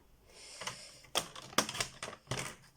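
A few crisp, sharp snips and slicing clicks as paper scraps are trimmed for a handmade card, close and fairly quiet, spaced irregularly over about three seconds.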